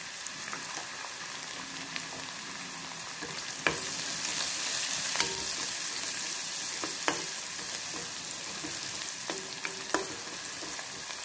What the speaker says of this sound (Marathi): कांदा 1 मिनिट भाजून घ्यायचं, कांदा छान भाजला